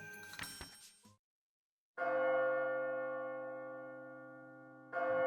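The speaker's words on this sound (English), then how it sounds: "Oh, the bells again, yes." Church bells in the video game Labyrinth of Refrain: Coven of Dusk ring out as a clear, sustained toll that decays slowly, then strike again, after a short burst of other sound and a pause.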